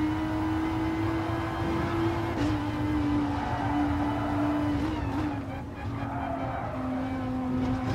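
A Renault RS01 race car in Gran Turismo Sport fishtails under braking, its engine droning steadily with brief pitch dips and faint tire scrubbing as the tail slides, continuous and prominent.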